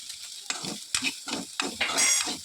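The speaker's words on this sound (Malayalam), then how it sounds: "ഗ്യാസ് കുറച്ചിട്ട് സിമ്മിലിടണം. എന്നിട്ട് ഇങ്ങനെ ഇളക്കി ഇളക്കി ഇളക്കി കൊണ്ടുവരണം" Churuli upperi being stirred in a pan over a low gas flame, with repeated scraping strokes of a spoon and a soft sizzle throughout, close and steady with no talking.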